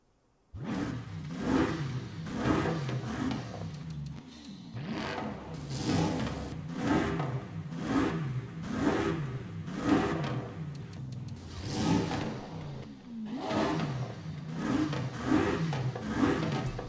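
A Bentley's 6-liter W12 engine in Forza Horizon 5 revs repeatedly in steady rhythmic surges, loud and close, with whooshing air noise between the pulls and no talking.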